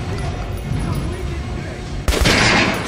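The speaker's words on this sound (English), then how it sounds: "Try shooting for the center of the regular dummy's chest." Gunfire at a training dummy in Metro Last Light, a loud shot bursting out near the end after a stretch of low background game noise.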